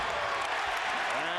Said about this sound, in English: And the crowd reacts.